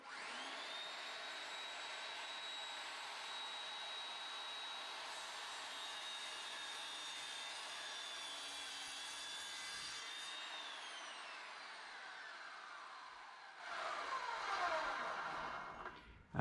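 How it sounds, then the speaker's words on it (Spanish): Power saw making a 45-degree cut through wood for a decorative frame, a steady high whine running loud for about ten seconds, then easing and changing pitch as the blade winds down. "Aquí espero que la sierra termine, porque si la levanto es posible que pueda romper estas esquinas también"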